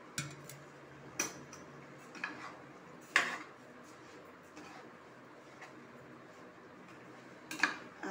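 Coconut milk tomato rice stirred in a pot, giving sparse ladle clinks and taps against the metal at irregular intervals over a quiet background.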